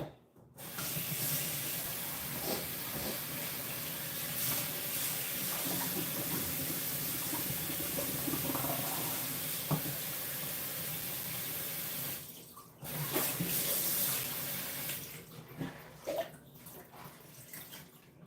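Water poured out of a glass container, a steady splashing stream running for about twelve seconds, pausing briefly, then a shorter final pour that trails off in drips.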